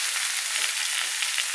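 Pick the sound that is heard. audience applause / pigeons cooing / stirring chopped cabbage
stirring chopped cabbage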